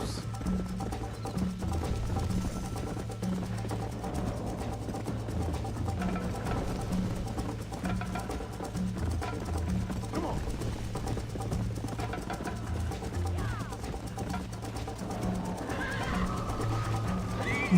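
In Red Dead Redemption, a horse gallops and neighs, with hoofbeats and whinnies mixed into a dense, continuous game soundscape under a voice.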